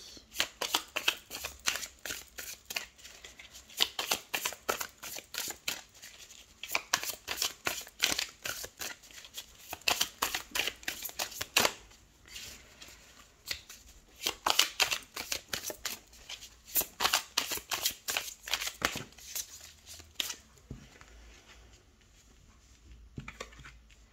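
Tarot cards, a golden tarot deck, shuffled continuously by hand in rapid riffling bursts and flutters for over twenty seconds, close and fairly loud, with no talking.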